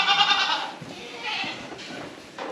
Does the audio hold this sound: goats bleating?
yes